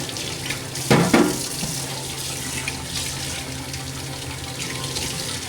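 Tap water runs steadily into a sink while a coffee machine is cleaned, a constant hissing flow with a brief louder splash near the start.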